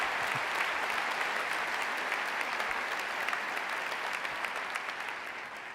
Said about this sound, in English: Let's hear a round of applause for all the Superhosts here and around the world.